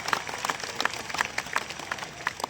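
Crowd applause at a political rally in Yavat, a steady patter of many hands clapping at moderate distance, continuous and fairly even with scattered sharper claps, no speech over it.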